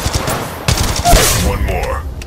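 Rapid gunfire in the Apex Legends battle royale game, with dense repeated shots and sharp impacts at steady loudness across the whole clip, loud and close, mixed with clattering game effects and brief voice-like sounds.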